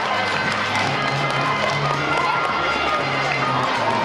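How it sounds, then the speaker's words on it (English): An audience at an upper level elementary school anti-bullying show claps and cheers for three contestants, a dense, steady wash of noise throughout with some voices mixed in. "Let's give all three of our contestants a big round of applause."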